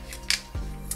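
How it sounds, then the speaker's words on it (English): Scissors snip open plastic art supply packaging, two or three quick close cuts with a soft rustle between them, no voices. "I should have gotten my scissors ready."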